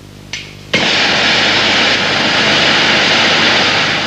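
An oxy-acetylene gas welding torch lights with a soft pop, then roars as a loud, steady, close broadband hiss that holds without a break.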